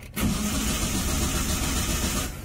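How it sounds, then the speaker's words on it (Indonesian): Car starter cranking while the engine fails to catch, a steady close whirring grind after an abrupt onset that holds for about two seconds, loud and without talk. "kalau kita paksa starter mobilnya otomatis tidak akan hidup"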